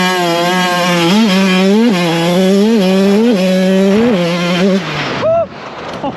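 A 2024 GasGas 125 motorcycle accelerating hard in second gear, its engine loud and close with a buzzing whine that climbs in pitch in several repeated surges before the throttle drops off.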